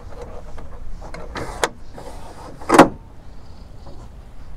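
Tailgate step drawer on a 2016 Ford F-150 being operated, giving a few short mechanical slides and clunks followed by one louder sharp latch thud, all close by with no talking.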